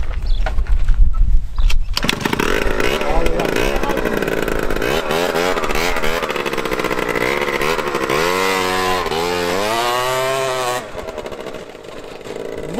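A Yamaha Neos scooter engine revs hard during a wheelie attempt, a loud buzzing two-stroke whine that surges, drops and climbs again in rising pitch sweeps, close by and continuous for the whole stretch.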